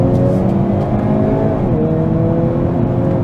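The 2.0-liter engine of a 2022 Hyundai Kona N, a 286 hp subcompact performance SUV, drones loudly under hard acceleration, its pitch climbing then dipping briefly at a gear shift before rising again from inside the cabin.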